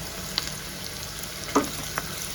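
A hot pan in Schezwan fried rice cooking with chicken pickle, an egg just added: a steady low sizzle and fry with a few soft stir clinks and scrapes, no voices.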